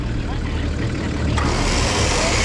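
A Nissan Patrol engine working off-road, a continuous mid-pitched rumble that rises slightly as the throttle opens, with a sharp knock partway through.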